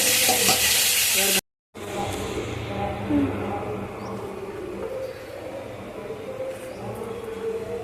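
Pieces of rupchanda fish fry in hot oil in a pan with a loud, dense, close sizzle that cuts out for a moment, then continues more softly and steadily.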